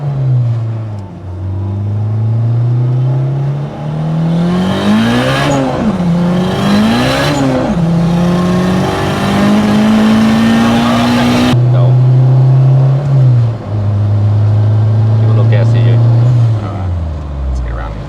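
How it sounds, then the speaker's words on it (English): Turbocharged 1992 Honda Civic EG hatchback with a 564-horsepower build on a forged short block and a big turbo, revving and accelerating hard through the gears, a loud close roar with rising pitch, shift breaks and a brief drop near the end. "564 horsepower with a Remy short block along with a boost lap turbo"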